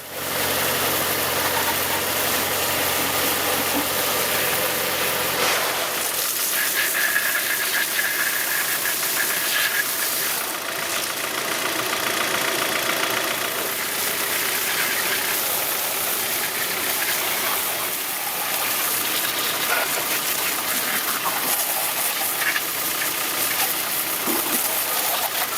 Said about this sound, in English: Turn on the water and rapidly spray down the engine compartment.